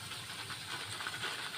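Potato pakoras fry in hot oil with a steady close sizzle and soft bubbling hiss, continuous and even with no talking.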